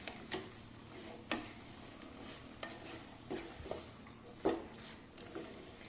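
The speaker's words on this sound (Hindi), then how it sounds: "अब सारी चीज़ों को हम अच्छे से मिक्स कर लेते हैं।" A spoon stirring a mewa pag mixture of dry fruits in a pan over a low gas flame gives soft, irregular scraping clicks and taps, with a faint sizzle underneath.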